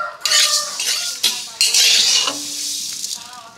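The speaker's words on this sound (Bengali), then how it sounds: "মিডিয়ামে করে এইভাবে অনবরত নাড়তে হবে, নাড়তে নাড়তে সুন্দর একটা রং চলে আসবে" Fenugreek and black cumin seeds dry-roast in a pan over medium heat while being stirred without pause. Loud, close scraping and rattling of the spoon comes in bursts over a light sizzle, with no voices.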